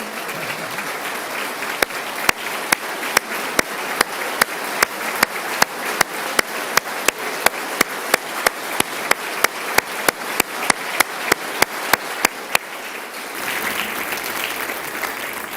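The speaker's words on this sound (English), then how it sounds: "Jackson, please stand so we can give you a round of applause" A State of the State address audience in the Ohio General Assembly claps steadily in a sustained round of applause for an honored guest, a dense wash punctuated by regular sharp clicks, fading out near the end.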